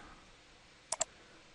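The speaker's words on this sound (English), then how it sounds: "So I'm clicking on File and going down to Options." Two quick, crisp computer mouse clicks land close together in an otherwise quiet room, sharp and near.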